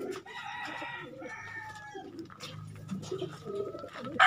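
Racing pigeons arrive at a loft during group training, cooing and fluttering near the mic, while a rooster crows in the background and other farm birds call throughout.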